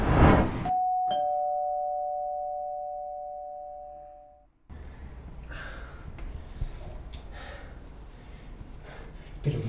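A house doorbell rings late at night with one clear electronic chime that lingers and slowly decays for several seconds, then gives way to a busier, noisy room with voices.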